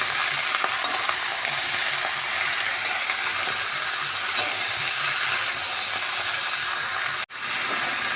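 Malabar spinach stir-fried with salt in a pan gives a steady, close sizzle and hiss with light scraping stirs throughout, broken by one abrupt brief dropout near the end.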